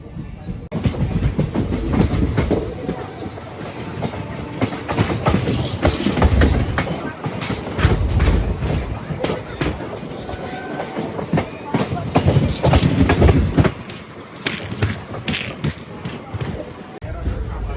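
Vijayawada-Guntur-Macherla passenger train running on rails after leaving Sattenapalli, heard from on board as a continuous loud rumble with repeated clickety-clack wheel beats and rattling carriages over nearly eighteen seconds.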